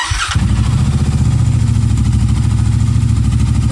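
A Royal Enfield Continental GT 650 twin fitted with a new Iridium spark kit runs steadily, loud and close, after a brief start, with an even, fast-pulsing idle throughout.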